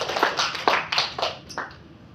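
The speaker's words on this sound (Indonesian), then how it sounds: "beri tepuk tangan bagi dia" Church congregation applauding during a sermon, a brief scattering of hand claps in uneven bursts, fairly close and moderately loud, fading out after a couple of seconds.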